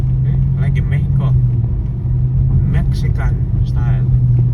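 Truck engine rumbling steadily beneath riders sitting in the open back on a road in Bohol, a loud low drone throughout with people talking over it.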